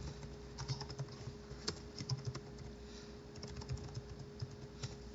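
Rapid typing on a computer keyboard while coding a C++ Qt game, a steady patter of light, close key clicks with irregular rhythm and occasional sharper strokes, no voices.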